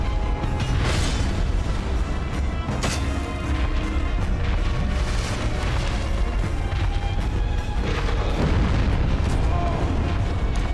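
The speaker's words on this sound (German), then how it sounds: "Ich weiß nicht, wo die Explosion auftaucht." Heavy booming explosions in the video game Dark Souls Remastered, loud and dense, with crashing bursts rolling one into another over a continuous rumbling game soundscape.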